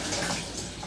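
A spatula rinsed under a running kitchen sink tap, giving a steady, close splashing water rush with no talk for about a second.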